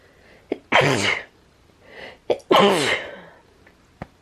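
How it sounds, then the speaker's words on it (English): Two loud, close sneezes, each preceded by a quick sharp inhale, with short pauses between them. "excuse me, these sneezes need to stop."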